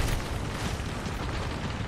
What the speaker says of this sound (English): I'm gonna nade this out right here